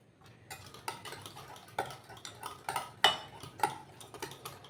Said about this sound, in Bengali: একটু সময় নিয়ে আমি এটাকে ফেটিয়ে নেব।